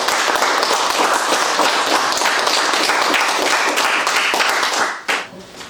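An indoor audience gives sustained applause, dense clapping at full strength that drops away abruptly near the end.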